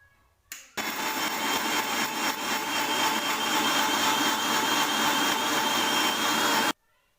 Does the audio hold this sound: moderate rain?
no